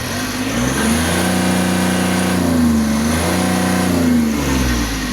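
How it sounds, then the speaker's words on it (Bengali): An Ashok Leyland Dost Plus pickup runs close by with a steady mid-pitched engine drone and exhaust note that rises and dips slightly over a few seconds, with no voices. "গাড়িটি কিন্তু স্টার্ট অবস্থায় আছে এখানে দেখতে পাচ্ছেন সাইলেন্সার শব্দ শুনতে পাচ্ছেন আপনারা"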